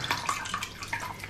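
Water splashing and running over a baby during a warm bath, a steady wet wash of pouring and splashing with no voices, moderately close.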